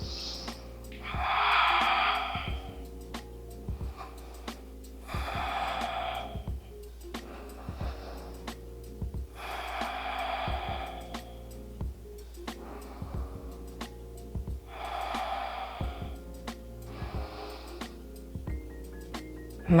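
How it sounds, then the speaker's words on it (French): Slow, calm breaths during a low lunge yoga stretch come in regular bursts of airy inhales and exhales about every two to three seconds, close and clear over soft steady ticking music. "Maintiens cette respiration calme"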